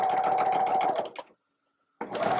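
A sewing machine stitches a seam on a fabric drawstring bag, a steady fast whirring hum that runs for about a second, stops into silence, then starts again, close and alone.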